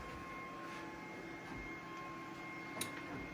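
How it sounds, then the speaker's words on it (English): A Lulzbot TAS6 3D printer printing PLA plastic gives a steady mechanical whir and hum with faint ticks and one brief click, running continuously in the background. "So this is a Lulzbot TAS6. It's currently printing a type of plastic referred to as PLA."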